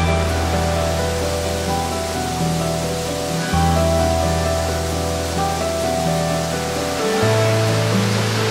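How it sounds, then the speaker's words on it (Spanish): A waterfall roars inside the Cueva de los Chorros cave at the source of the Río Mundo, a loud, continuous wash of rushing water with deep rumbling undertones, close by and alone. "una zona estruendosa porque vemos una cascada aquí"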